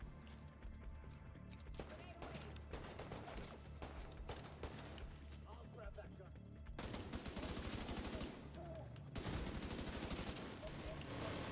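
Rapid bursts of turret gunfire in The Division 2 rattle loudly in long sustained volleys, mixed with explosions and game effects, dense and close throughout.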